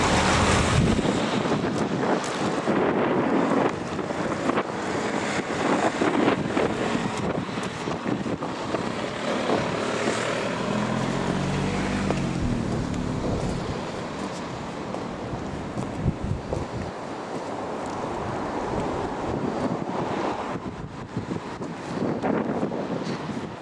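Blustery wind on a wet day at an old Presbyterian church graveyard, a steady loud roar buffeting the microphone, rising and falling in gusts for over twenty seconds with no voices.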